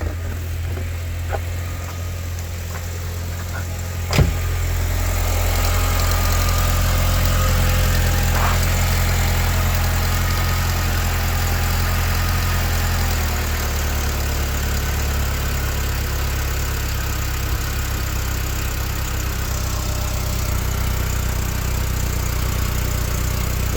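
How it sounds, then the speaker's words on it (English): Volkswagen Beetle convertible engine idling steadily after a cold start, a low continuous rumble that settles slightly lower partway through, with one brief click early on and no talking. "Engine's warming up."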